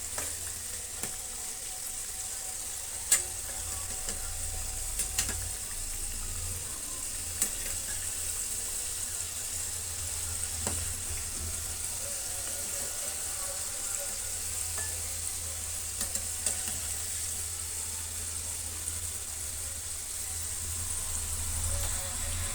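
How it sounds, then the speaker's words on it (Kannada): Karjikaya sweet dumplings deep frying in oil, a continuous bright crackling sizzle holding steady for the whole stretch with occasional faint clicks. "ಈ ರೀತಿ ಎಲ್ಲ ಡೀಪ್ ಫ್ರೈ ಮಾಡ್ಕೊಂಬಿಡೋಣ"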